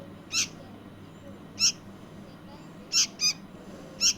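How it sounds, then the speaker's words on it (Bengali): A bulbul chick indoors gives five short, bright, high-pitched calls, well spaced with two in quick succession near the end, over a quiet room background. "এটা হচ্ছে বুলবুলি পাখির বাচ্চা"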